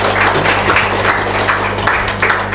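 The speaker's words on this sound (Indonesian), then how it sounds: "Tepuk tangan dong." Studio audience applause during a talk show, a short burst of moderate clapping heard close, lasting a couple of seconds.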